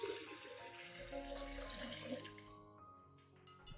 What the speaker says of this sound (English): I dilute it with an additional 500 milliliters of clean water.